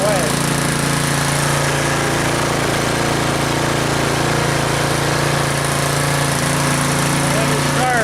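The engine of a Troy-Bilt Storm 2840 snow blower runs loud and steady at close range, a continuous rough drone with no breaks.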